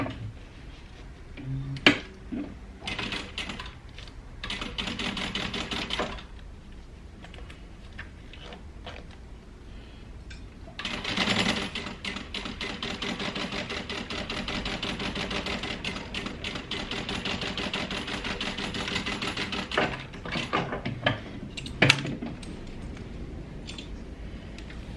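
A sewing machine bastes a zipper in place for a crossbody bag. Quick bursts of stitching rattle with short pauses between them, then one long continuous run, all close up with no talking.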